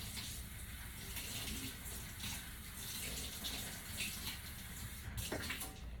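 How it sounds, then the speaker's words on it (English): Tap water runs steadily while a measuring cup is rinsed in a kitchen sink, a faint continuous hiss with small splashes and clatters near the end. "So I'm gonna rinse this off."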